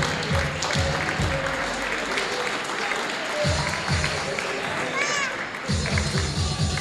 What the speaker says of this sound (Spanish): Gracias, fuerte el aplauso para ellos.